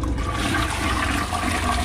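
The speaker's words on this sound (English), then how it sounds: "so the water is flowing now" A toilet tank flushing after a flush valve repair, a loud, steady rush of water pouring into the bowl throughout, close and alone.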